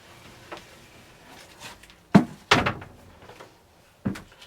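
A shed door being handled, a couple of sharp wooden thumps and a heavier clunk, with a last knock a moment later, close by and without speech over the bangs.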